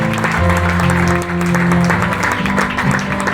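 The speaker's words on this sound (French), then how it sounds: "Je vous demande de l'applaudir, s'il vous plaît, mesdames et messieurs." Audience applause at a graduation ceremony: steady, dense clapping from a crowd that fills the whole stretch, with a sustained tonal hum or music underneath.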